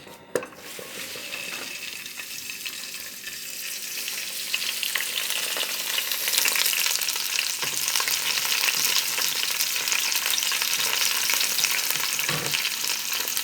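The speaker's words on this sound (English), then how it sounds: "So first I will be adding my vegetables, all my green vegetables right here." Green vegetables hit hot oil in a pan and stir-fry with a continuous loud sizzle and crackle that builds and holds, with occasional clinks of a utensil against the pan.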